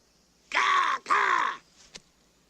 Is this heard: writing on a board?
no